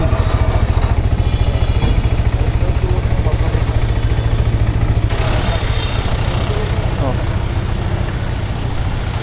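A motorcycle engine idles after a cold start on a roadside stop near Cox's Bazar, loud and close with a steady rapid thumping pulse that shifts slightly partway through, filling the whole stretch with no talk.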